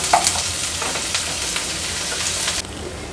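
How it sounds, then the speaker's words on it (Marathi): Chopped onion frying gently in oil over a low gas flame, a soft, steady sizzle with faint crackles and a brief stir near the start. "गॅसची फ्लेम लो करून कांदा छान शिजवून घ्यायचा आहे आपल्याला"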